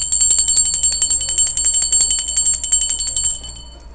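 A small hand bell is rung for spiritual guides, loud bright repeated strikes in a quick steady rhythm that fade out near the end, with no voices.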